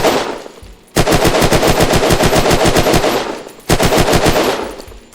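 Rapid automatic gunfire from the Pog weapon in the Unturned video game, two loud sustained bursts of evenly spaced shots separated by a short pause, close and alone.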